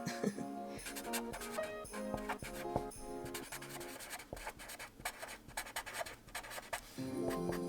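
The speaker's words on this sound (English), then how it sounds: "So I'm just going to write down these now" Pen or pencil writing measurements by hand on paper while planning a sewing project for a circle skirt, heard as close, quiet scratchy strokes in short bursts with small pauses, no talk.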